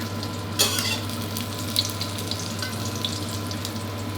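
An egg omelette sizzles and crackles steadily in a hot pan, with a few louder pops standing out over the continuous frying hiss.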